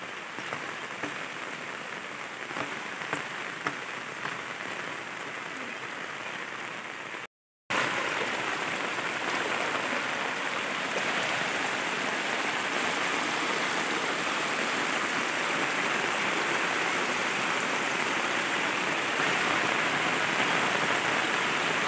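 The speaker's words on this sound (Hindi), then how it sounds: "बारिश बहुत ज़्यादा हो रही है" Heavy rain pours steadily in a dense, continuous hiss, briefly cut off once before resuming even stronger.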